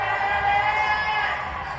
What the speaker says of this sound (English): The crowd gets behind her.